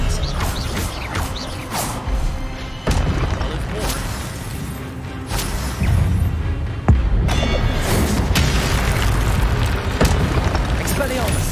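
Spell impacts and blasts from Expelliarmus casts in the game Hogwarts Legacy, several booming hits and bursts over a busy combat background, with a player talking throughout.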